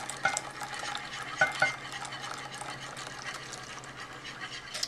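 A liquid dessert mixture is poured out of a pan into a container, giving a continuous soft, close trickling and swishing sound with a few light clinks of metal.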